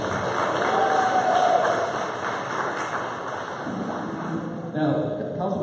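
An audience at a monthly council meeting applauds: a steady, dense wash of clapping that holds for several seconds at moderate distance, with a few voices and some murmur mixed in.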